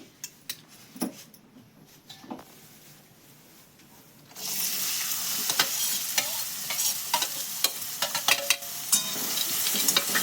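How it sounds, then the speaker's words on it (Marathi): Finely chopped onions dropped into hot oil, starting with quiet scattered clinks and taps, then a sudden loud, dense sizzle that continues with spoon scrapes and clatter against the pan. "आता तेल गरम झालं का आपण त्याच्यामध्ये दोन तीन मोठ्या आकाराचे कांदे बारीक चिरलेले ते टाकतोय"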